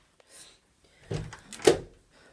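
A household door opens in a house, giving a few soft scraping and knocking noises followed by a sharper clack near the end, fairly quiet and heard alone.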